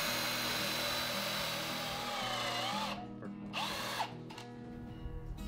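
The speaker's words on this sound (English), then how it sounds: "With the seat done, I was on to drilling holes in the legs for the stretchers." A power drill whines steadily while boring holes into wooden shop stool legs, then cuts out briefly and restarts in short bursts near the end.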